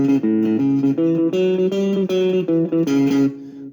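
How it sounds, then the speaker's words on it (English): Electric guitar plays a guitar boogie riff, a steady, continuous run of low repeating notes with higher chord accents, loud and unaccompanied. "19 of 21, the guitar boogie."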